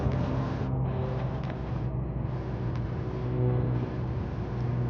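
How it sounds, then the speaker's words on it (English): A salvage auction car's engine starts and runs, holding a steady low idle with a faint rev, fairly close and with no talking. "So let's see if the car runs."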